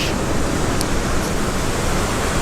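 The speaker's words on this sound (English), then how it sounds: "Listen to those waves crashing." Ocean waves crashing below a cliff edge at early morning, a loud, continuous broadband roar of surf filling the whole stretch without distinct breaks, heard close with no speech.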